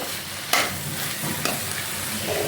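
Tamarind is being stirred into a frying raw banana curry made with mustard, a close steady sizzle with a couple of sharp spoon scrapes against the pan and no voices.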